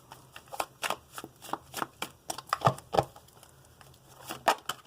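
Tarot cards being shuffled close up during a reading, a quick series of soft riffling flicks and slaps with brief pauses, quiet and alone.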